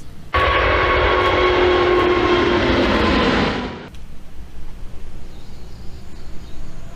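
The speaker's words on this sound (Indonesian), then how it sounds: "Pesawat terbang warna orange." An orange toy airplane's engine noise plays as a loud, steady drone with a faint whine for about three and a half seconds, then cuts off abruptly, leaving quiet background.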